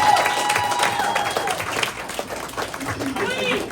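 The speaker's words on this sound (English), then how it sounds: "Say, hey, give my girl a round of applause." Applause from an audience at a post-fight boxing press conference, honouring a women's fighter. Dense clapping and crowd noise fill the room at steady loudness, with voices mixed in underneath.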